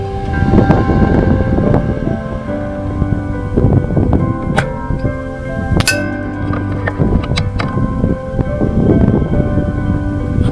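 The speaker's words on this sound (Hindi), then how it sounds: "जिस तरह हवा चल रही है" Wind buffets the microphone outdoors at an air rifle shooting range, a dense, steady rumble that runs throughout with faint metallic clinks and tones mixed in.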